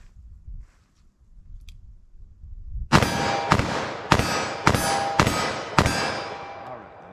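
.357 Magnum revolver firing Blazer Brass HP ammunition at an outdoor range, six sharp, loud shots in an evenly spaced string, each with a short ringing decay.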